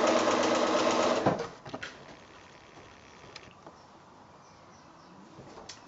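Sewing machine chain piecing fabric patches for a floating four-patch quilt block, a steady loud whir for just over a second, then stopping into quieter room noise with faint clicks.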